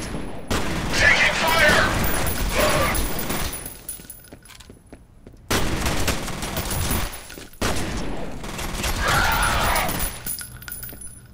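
Gunfire in the video game F.E.A.R. comes as dense bursts of rapid shots with glassy crashes and debris, loud and close, broken by short lulls, with a voice speaking briefly over the firefight.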